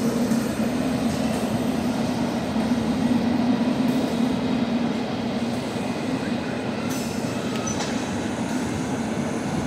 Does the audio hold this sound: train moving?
yes